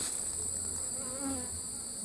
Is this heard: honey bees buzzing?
yes